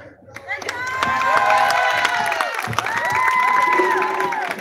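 A school crowd claps and cheers for a student's backpack entry in a modeling contest, with loud, dense applause and shouts filling the whole stretch.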